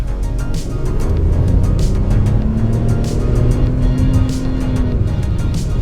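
Ford Bronco Sport accelerating in Sport mode: a loud, steady engine drone with a tone that climbs gradually and holds, with no talk over it.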